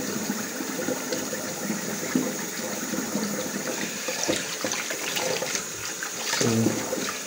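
Cold water splashes and runs steadily as a face is rinsed during a vintage wet shave, a close continuous watery wash with a few louder splashes near the end.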